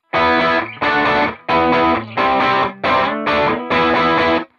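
Bright, trebly overdriven electric guitar chords through a Revv Shawn Tubbs Tilt Overdrive pedal set to its chimiest boost play in seven short strummed bursts with brief gaps, a thin, chimey tone.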